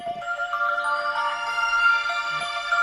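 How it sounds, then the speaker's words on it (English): A mobile phone ringtone plays loud and close, a bright electronic melody of sustained tones that holds steady over the whole stretch without pauses or voices. "Well, that was my phone, so sorry for the little break."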